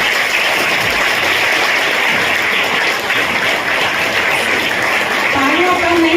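A crowd at an International Women's Day gathering on the Purnia cathedral grounds gives the bishop loud, sustained applause, a continuous dense clatter from start to finish.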